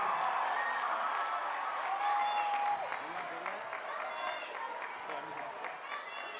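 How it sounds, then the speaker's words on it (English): A large graduation audience at a 2019 Liberty High School ceremony in the Hillsboro School District applauds and cheers, with a steady wash of clapping, voices shouting and a brief whistle-like tone running throughout. "Give them a round of applause to thank them for their commitment to you."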